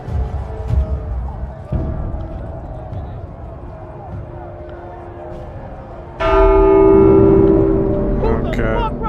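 A church bell rings in The Walking Dead: Saints & Sinners VR game, a sustained bright metallic toll that swells suddenly and loudly over a busy game ambience with voices and movement.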